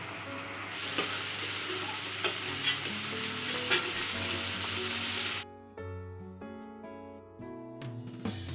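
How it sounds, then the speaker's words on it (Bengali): Spice paste for chicken biryani sizzles and fries in hot oil while being stirred, a steady crackling hiss with occasional scraping strokes, then the frying turns quieter with intermittent clinks and taps toward the end. "3 থেকে 4 মিনিট এই মশলাটা আমরা ভালো করে কষিয়ে নেব।"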